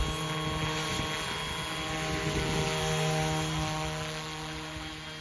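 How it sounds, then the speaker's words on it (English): A scale RC helicopter, a YuXiang F08 Bell 206 Jet Ranger, flies inverted, its rotor and motor droning loudly and steadily nearby, with a high whine and a throbbing rotor hum throughout. "It is pretty cool to watch a scale helicopter going upside down."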